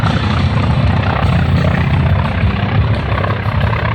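A Grumman F4F Wildcat warbird makes a low strafing pass over the infield at an airshow, its piston engine a loud, continuous droning roar held close throughout with no voices.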